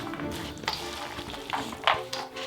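A spoon turns and tosses a lentil salad in a bowl, making soft continuous stirring rustles with a few sharper clinks and scrapes near the end, all close by and without speech.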